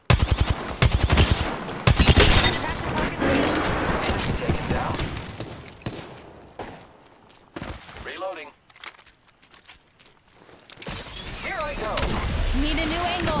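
Video game enemy gunfire in bursts, loud rapid volleys at first, then thinning to scattered shots and quieter stretches before heavy firing resumes, with a voice talking over parts of it.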